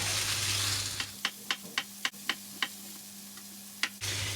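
A knife slicing button mushrooms (champignons de Paris) on a cutting board, a run of sharp, evenly spaced taps close up that pause briefly and end with one final cut, no speech.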